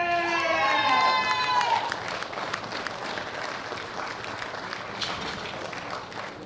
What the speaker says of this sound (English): A big round of applause for Elise Norton.